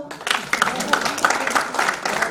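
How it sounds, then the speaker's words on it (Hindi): An audience at a Hindi poetry recital claps in an uneven, moderately loud burst of applause that continues throughout. "ताली बजा दो"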